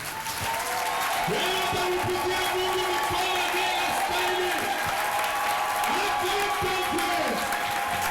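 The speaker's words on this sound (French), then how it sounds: "nous allons bien acclamer pour ce Seigneur" Church congregation at an evangelism seminar applauding and cheering, steady crowd clapping with whoops and voices mixed in throughout.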